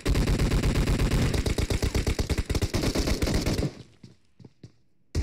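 Automatic gunfire in the mobile game PUBG Mobile: loud, rapid bursts of shots rattle close for several seconds, then break off into a few scattered distant shots.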